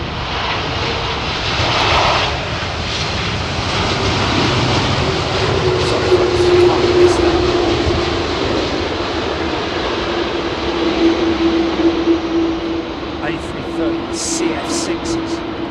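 Jet airliners with GE CF6 engines at London Heathrow Airport give a continuous loud roar with a low steady hum throughout, while people talk nearby.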